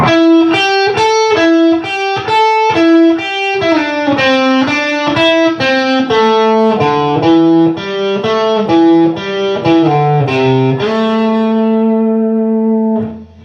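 Distorted electric guitar playing loud bluesy single-note licks in 9th position, fast runs and bends, ending on a sustained held note.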